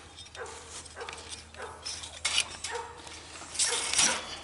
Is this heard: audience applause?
no